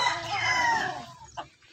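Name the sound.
gamefowl rooster crowing at a game farm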